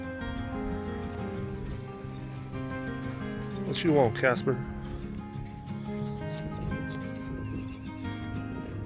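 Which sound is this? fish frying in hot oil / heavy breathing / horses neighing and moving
horses neighing and moving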